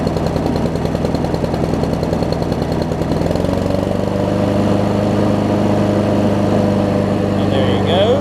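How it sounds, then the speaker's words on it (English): A Honda engine on a Craftsman self-propelled push mower runs steadily just after a cold start, a loud, close, continuous droning idle whose pitch shifts slightly midway as it settles. "As with all Hondas on a cold start, it takes a little bit for it to come off and choke."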